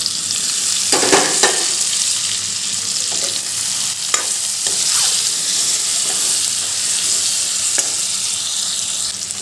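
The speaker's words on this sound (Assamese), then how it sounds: "বহুত ধুনীয়াকৈ ফ্ৰাই হৈ আছে এইখিনি" Pork with tomato and potato frying in plenty of oil, a loud continuous sizzle close by with occasional scrapes and knocks of stirring, no voices.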